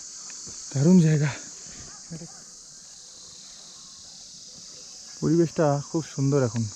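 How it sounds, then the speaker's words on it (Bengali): Crickets chirp in a continuous high, steady drone on a grassy meadow along the Tunganath trek near Chopta, heard throughout, with a person speaking briefly at the start and again near the end. "হ্যাঁ ঝিঝি ডাকছে"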